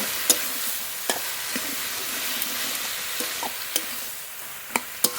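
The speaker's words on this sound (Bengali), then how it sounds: "মশলার সঙ্গে খুব ভালোভাবে মিশিয়ে নেব।" Boiled taro fries with spices in a pan, a steady sizzling hiss broken by occasional sharp scrapes and taps of a stirring spoon, close up with no talk.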